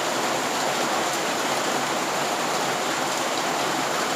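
Rain falls steadily at a Thai border army post, a loud, even, unbroken hiss with no voices.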